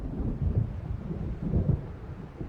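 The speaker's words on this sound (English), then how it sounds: "It seems there's a storm coming." Thunderstorm in the video game Alan Wake Remastered, with low rolling thunder rumbles rising and falling twice over a steady wash of rain and wind, loud and continuous.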